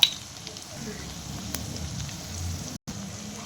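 Dried red chillies and green chillies sizzle in oil in a pan while a manathakkali greens stir-fry is being made. The frying crackles in a faint, steady patter after a brief louder start.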